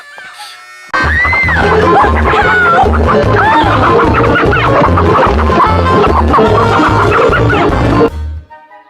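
Cartoon chickens in a coop cluck loudly in a rapid, rhythmic series of squawks and clucks layered with bouncy music, starting abruptly after a second of quiet and cutting off near the end.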